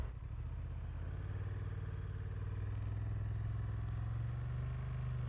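A Honda Transalp motorcycle engine drones steadily on a test ride, a constant low hum with wind rush heard from the rider's position, holding an even pace throughout with no talking.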